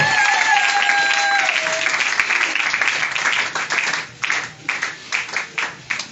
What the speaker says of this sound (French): Acclamons plus fort pour la gloire du Seigneur.